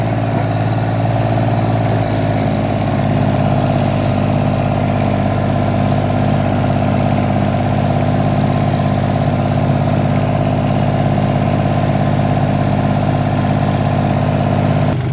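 A tractor engine idles steadily near rollers used to roll a soybean field, a loud continuous low drone that holds constant throughout without voices.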